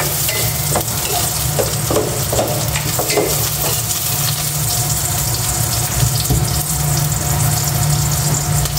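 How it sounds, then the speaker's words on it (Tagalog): Pork sautéing in a hot pan, a continuous sizzle and crackle with intermittent stirring scrapes and clinks, close and steady throughout. "Gisa ko na itong pork."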